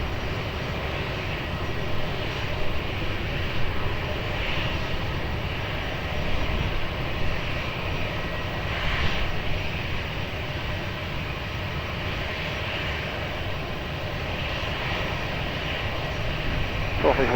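An airplane lands on runway 20 at Lisbon Airport, its engines a steady, rumbling roar that holds for the whole stretch, with radio voices talking over it.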